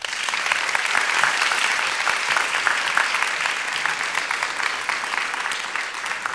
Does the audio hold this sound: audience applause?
yes